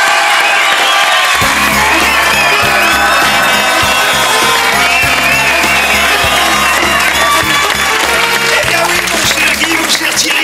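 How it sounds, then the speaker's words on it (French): Studio audience at a French television variety show breaks into loud, sustained applause and cheering with whoops, a dense continuous roar over a pounding musical beat that kicks in after the first second. "On va applaudir notre surprise."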